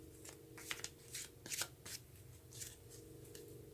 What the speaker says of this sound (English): But we're going to take a card for challenges.